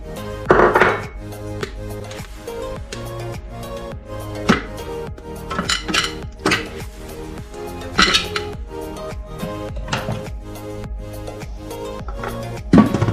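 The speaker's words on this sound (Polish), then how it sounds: "50 g białej czekolady schłodzonej w lodówce połamać na kawałki, włożyć do pojemnika miksującego" Chilled white chocolate is snapped into pieces and dropped into a mixing container, giving sharp close cracks and clinks in an irregular rhythm with hard knocks against the container.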